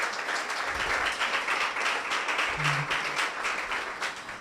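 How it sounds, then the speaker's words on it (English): A conference audience at a women's PR summit claps to welcome a speaker to the stage, with moderate, slightly uneven applause that swells and dips without a clear finish. "With a round of applause, may you all join me in welcoming Sophia Lissah to the stage"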